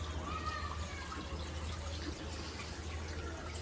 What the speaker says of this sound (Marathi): आणि अंजली पाणी भरते.